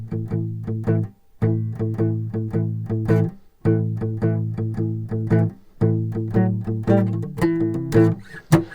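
Guitar chords strummed in a bouncy, uneven swing rhythm, long-short pairs repeating for several bars, close and clear with brief gaps between phrases.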